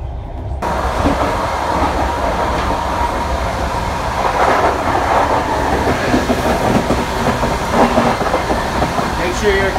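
A second-class Russian passenger train rolls along the rails with a continuous loud rumble and rattling clatter heard from inside the carriage, with faint speech beneath the noise.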